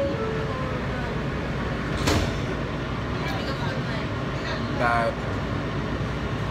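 A subway train rumbles continuously with a broad, loud roar, with brief screeches and clatters rising above it, while someone speaks over the noise.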